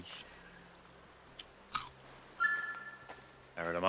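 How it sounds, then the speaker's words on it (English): A deer in the video game Oh Deer munches food, giving a few short crunchy bites spread across a few seconds amid quiet game ambience, with a voice talking at the end. "heard a munch"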